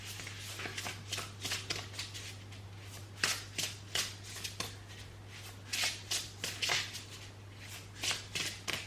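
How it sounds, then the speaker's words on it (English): An oracle card deck being shuffled by hand in a quiet room, repeated soft riffling and sliding bursts in irregular clusters, close and faint over a low steady hum, with no talk. "So I'm just going to get one oracle card from this deck to close the reading."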